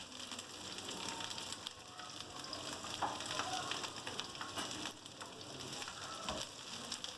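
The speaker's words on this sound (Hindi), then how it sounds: "फ्राई करेंगे इसको। फ्लेम हमने मीडियम रखी हुई है।" Capsicum and onion cubes frying in a pan over a medium flame, a continuous soft crackling sizzle heard close but quiet, with faint stirring noises throughout.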